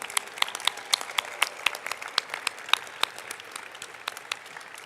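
Clapping rises at an IMSA closing ceremony for standing faculty, staff and steering committee, with crisp individual claps popping out sharply over a softer bed of applause from the crowd.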